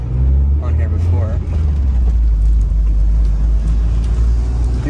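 A Mazda Miata with a swapped 1.8 engine drives on the road, its steady low engine drone and road rumble loud and constant inside the cabin while someone talks over it.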